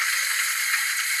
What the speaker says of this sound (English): Injectors.